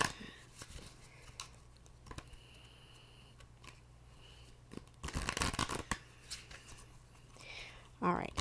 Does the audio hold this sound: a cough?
no